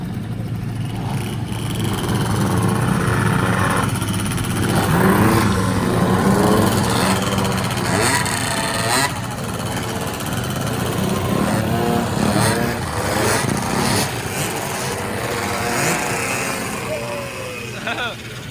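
Fast two-stroke scooters ride off through city streets, their buzzing engines revving and passing at varying distance, with people talking over the engine noise throughout.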